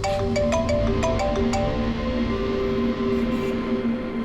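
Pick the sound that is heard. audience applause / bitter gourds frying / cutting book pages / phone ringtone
phone ringtone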